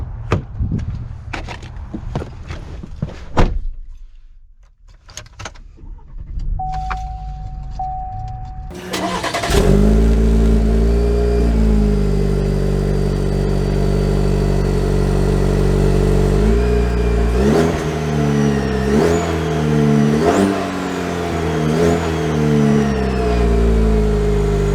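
A 2022 Chevy Silverado 1500 Rally Edition with the 2.7-liter turbo four-cylinder engine starts up after some quieter handling sounds, then settles into a steady, close idle broken by several rising revs.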